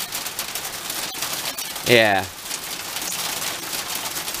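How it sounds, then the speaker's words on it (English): A hailstorm pelting down outdoors in British weather: a dense, steady patter fills the air throughout, and a person's voice cuts in briefly near the middle. "That can wait until this hailstorm has passed."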